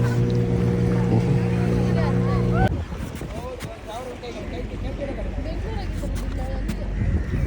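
A 12-person motor boat ride off a beach in Pondicherry, with a steady engine drone and water rushing against the hull throughout, loud and close, while a voice talks over it early on.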